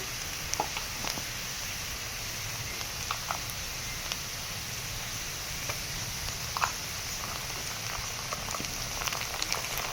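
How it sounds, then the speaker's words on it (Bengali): Ginger-garlic paste fries in a pan with a soft, steady bubbling sizzle, faint and even throughout with scattered small pops and no voices. "রসুন বাটাটা দেওয়ার পরে একটু কষিয়ে নেব"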